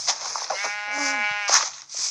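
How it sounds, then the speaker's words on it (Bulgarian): A sheep bleats once in the Minecraft video game, a clear, wavering mid-length cry standing out over quiet game ambience. "Да убия ли овцата?"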